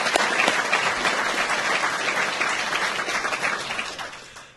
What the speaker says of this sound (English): So we can give them a little longer round of applause.